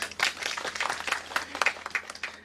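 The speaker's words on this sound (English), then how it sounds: "Let us acknowledge their leadership with a big round of applause." Audience at an oncology nursing conference claps in a brief, faint, uneven patter of individual hand claps.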